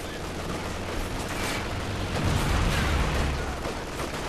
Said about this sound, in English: One little machine gunner.